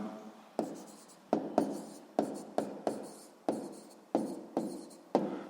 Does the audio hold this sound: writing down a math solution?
yes